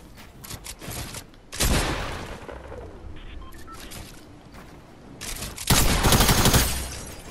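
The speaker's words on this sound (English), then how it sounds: "Right when I pick up the heavy sniper, bro, I'm instantly getting sniped off." Heavy sniper rifle fire in a first-person shooter game, with several loud, sharp blasts followed by decaying rumbles, plus a couple of long bursts of gunfire, all standing out against quieter game ambience.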